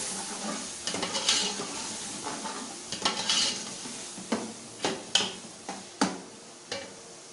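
Chicken pulao masala in a pot being mixed after salt goes in, heard as a rhythmic series of spoon scrapes and knocks against the metal, roughly a dozen strokes over a soft sizzle, close and unaccompanied by speech.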